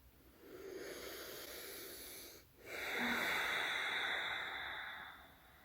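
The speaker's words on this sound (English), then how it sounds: "Take a couple of deep breaths in." Two long, slow deep breaths during a guided meditation, a breathy inhale or exhale, a brief pause, then a fuller, louder airy breath that fades out. Close and soft, with no speech.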